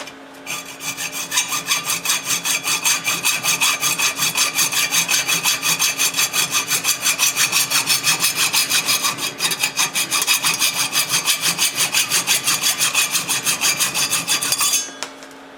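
A worn disc sander grinds an aluminum part for a homemade overhead-valve Briggs engine, a loud, steady, close rasping drone that runs continuously for about fourteen seconds before cutting off, with no talk.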